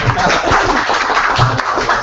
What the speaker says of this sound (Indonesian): beri tepuk tangan dulu Mas Adrian